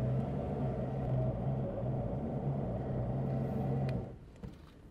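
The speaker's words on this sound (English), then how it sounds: "So let's get back into another 30 seconds of winching." Electric winch on a 4x4 off-road vehicle runs under load with a steady, loud motor drone and low hum for about four seconds, then cuts off, leaving quieter ambient sound with a few faint clicks.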